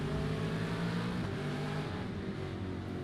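Race car roaring past in a tight three-wide pack during the traditional Australia Day Eve race, a loud, sustained engine howl with pitch shifting as it closes in and goes by.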